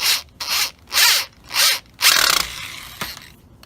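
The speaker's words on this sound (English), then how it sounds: "you might want to just use a screwdriver" A driver turns a screw into a solar panel bracket in several loud, whirring bursts with short pauses between them, followed by a longer rasping run that fades.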